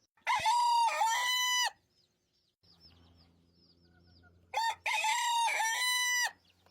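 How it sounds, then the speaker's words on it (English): A rooster with fuzzy feet, one of a prize-winning flock, crows loudly and close twice, each a long bright call with a break of quiet clucking and low rustle between. "I know you want to crow."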